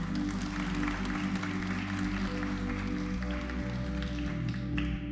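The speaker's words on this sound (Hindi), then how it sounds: "उनको तालियां बजाते हैं।" Applause from people gathered in a society hall, a steady moderate clapping that continues evenly throughout.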